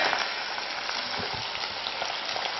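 Fish frying in a pan, a dense continuous sizzle of hot oil, close and steady throughout, with faint stirring clicks and no talking.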